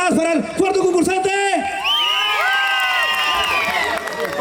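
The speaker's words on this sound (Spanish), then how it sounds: "fuerte las palmas para el cuarto concursante" Festival crowd cheering, whooping and clapping for a contestant at a traditional costumbrista fiesta in San Juan de Yananaco, with loud shouts and voices rising over one another throughout.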